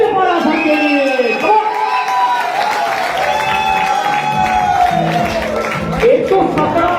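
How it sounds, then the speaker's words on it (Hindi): At a cricket premier league final ceremony, a crowd claps and cheers with a loud, continuous wash of applause and shouts, while voices rise over the top. "तो जोरदार तालियां हो जाए आनंद की चैलेंज मैराथन के लिए।"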